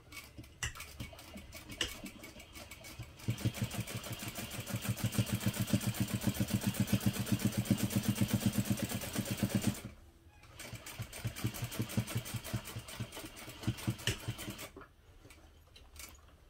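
A sewing machine topstitches along the top edge of a fabric hip pouch, running in a steady rapid mechanical rhythm for several seconds, pausing briefly, then starting again in shorter runs, close up.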